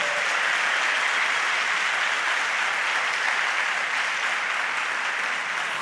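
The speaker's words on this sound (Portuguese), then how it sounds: "Você pode aplaudir o Senhor Jesus?" Sustained applause from a church congregation, a dense, even wash of many hands clapping together, steady and full for several seconds with no talk.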